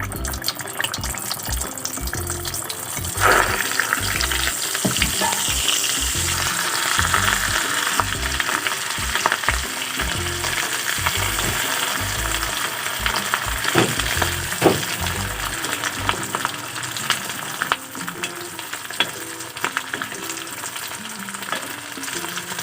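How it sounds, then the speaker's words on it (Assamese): Potato and egg chops fry in hot oil with a constant close sizzle and crackle, with occasional clinks and stirring sounds and no voices. "তেলখিনি গৰম হওঁতে মই এইকেইটা বহাই দিছোঁ।"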